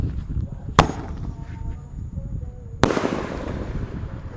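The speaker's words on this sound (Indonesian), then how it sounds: "di sini ada mercon Raja Wali, guys. Kita nyalakan. Ini meledasnya 2 kali ya, di bawah dan di atas." A Raja Wali firecracker goes off twice, a loud sharp bang followed about two seconds later by a second crack with a crackling tail, heard close and alone.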